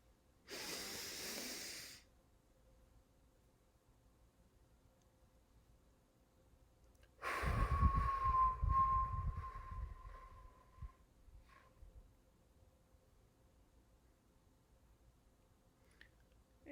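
A person demonstrates the 4-7-8 breathing exercise: a short audible inhale near the start, a long quiet hold, then a long, close, breathy exhale with a faint whistle before fading into silence.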